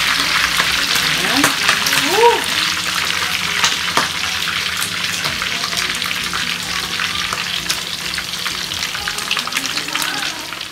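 Duck pieces crackle and sputter loudly in hot oil, a dense continuous sizzle with a few brief voice fragments underneath.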